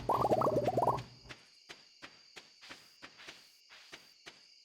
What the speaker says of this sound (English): Because I can hear the crickets now.